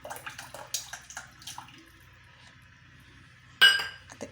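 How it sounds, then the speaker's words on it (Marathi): Tamarind and jaggery water is poured into a pot of sambar: soft close clinks of a vessel against the pot, then a brief splash near the end. "याच्यामध्ये ॲड करते चिंच गुळाचं पाणी."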